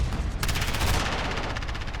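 Rapid gunfire from the Call of Duty: Modern Warfare video game in a 2v2 match, a sharp loud onset followed by a steady, close burst of repeated shots over low rumble.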